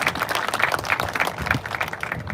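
Steady applause from a crowd at a grand opening of the SR 125/SR 905/SR 11 highway connectors, a dense patter of many hands clapping at even loudness throughout, with no voices over it.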